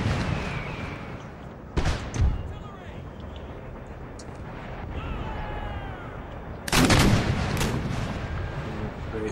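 Gunfire and artillery from the war strategy video game DME: American Empire: two heavy booming bursts over a rumbling battle backdrop, with a voice talking through it.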